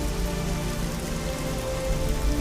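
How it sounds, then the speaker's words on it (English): Steady rain falling on surfaces in a World of Warcraft machinima scene, a dense even patter at moderate volume with no voices. "The rain is nature's baptism on us."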